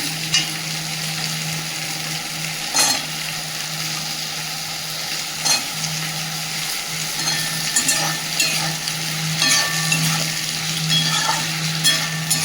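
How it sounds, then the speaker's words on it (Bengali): Thinly sliced potato with spices stir-frying in a pan, a steady close sizzle broken by scraping and clinking stirring strokes throughout, with no talk. "ভালো করে কষিয়ে নেব আলুটা।"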